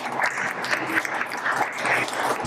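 An audience at a medieval costume fashion show applauds in a steady, even stream of clapping at moderate loudness, with a faint murmur of crowd noise underneath.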